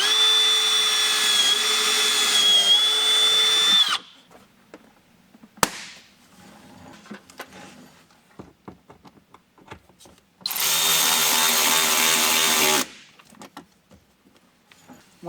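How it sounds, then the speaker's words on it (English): A power drill with a 5/16 drill bit bores holes while fitting a Rokblokz fender extension kit to a 2023+ Speed UTV El Jefe: two loud, sustained whining bursts separated by a quiet gap with a sharp click and scattered clatter. "get that drill out again, and finish up"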